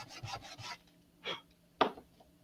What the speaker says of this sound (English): So I'm going to stack the fins and just use a piece of sandpaper on the ground